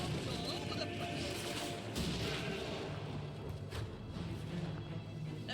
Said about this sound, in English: There's blood and bombs all over the place!